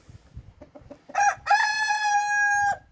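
After a few soft clucks, a silkie rooster in a backyard coop built for ten hens lets out one long, loud crow that is close and clear, with low hen clucking beneath it.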